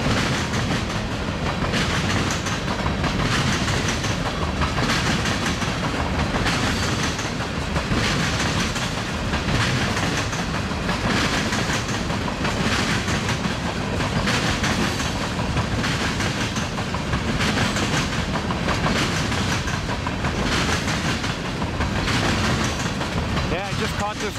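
A long freight tank train rumbles past steadily, with rhythmic clacking of wheels over rail joints and a constant heavy roar throughout.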